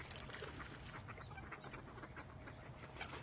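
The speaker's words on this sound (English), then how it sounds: "All the ducklings. Somebody had babies. Ducklings. Lots of ducklings." Ducks and tiny ducklings on a Santa Barbara lake give faint, scattered quacks and peeps from a distance, set in a soft, steady outdoor wash of background noise.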